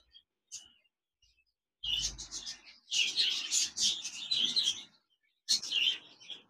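Two baby cockatiels chirp in quick, high bursts, with short bright clusters of calls broken by brief silences, close and moderately loud.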